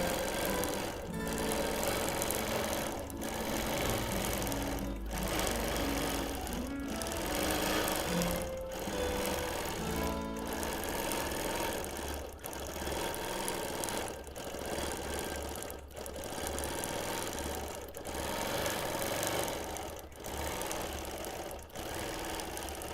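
A sewing machine free-motion quilting a hexie quilt runs in a fast, steady rhythmic whir, pausing briefly with short bursts near the end as lock stitches are set.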